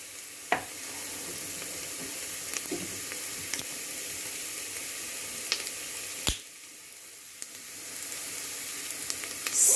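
Chopped onion frying with a little turmeric in a pan, a steady close sizzle with occasional spatula scrapes and taps, no talk.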